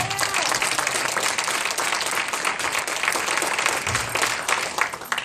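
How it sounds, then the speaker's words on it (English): A large church audience at a live poetry event applauds loudly and continuously, dense clapping filling the room without pause. "give a nice round of applause again for yourself"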